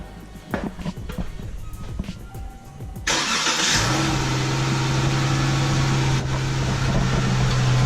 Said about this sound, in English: now I'm going to start up the car